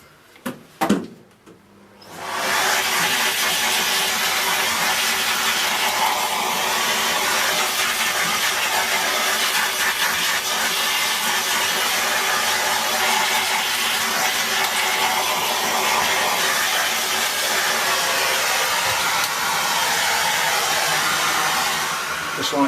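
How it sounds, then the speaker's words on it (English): A cordless vacuum cleaner runs steadily and loudly, sucking debris off the removed bin of a Dyson V6 or V8 stick vacuum, a few handling clicks before it starts and then a constant whooshing roar. "What we can do is get the vacuum cleaner now and vacuum the bin off."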